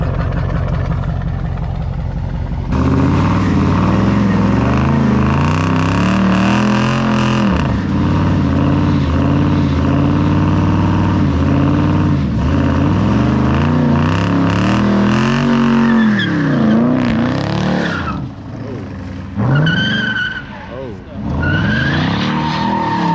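An Infiniti G37 drifts with one wheel spinning, giving a loud, sustained tire squeal over a revving engine that rises and falls through several slides, with voices talking nearby.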